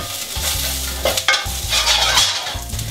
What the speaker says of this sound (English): with a little bit more olive oil. Just stir them to coat nicely.